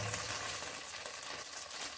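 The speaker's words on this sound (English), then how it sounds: "fry them a little bit" Defrosted potatoes frying in a pan, giving a steady, even sizzle and crackle that stays fairly constant throughout, with no talking.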